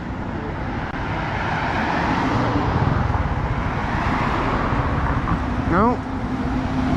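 A bus approaches along a road in Thailand, a broad rumbling engine and traffic roar that swells and then settles, with a short horn-like tone near the end and someone speaking over it.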